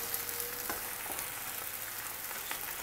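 Coca-Cola sweet and sour chicken sizzles in a pan as it is stirred, a steady frying hiss broken by a few soft scraping clicks of the utensil against the pan.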